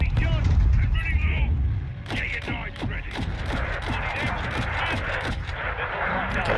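Rapid gunfire in Call of Duty Modern Warfare 2, a steady string of sharp loud shots cracking in quick succession over rumbling battlefield noise.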